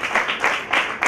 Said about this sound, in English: give you a big round of applause for coming here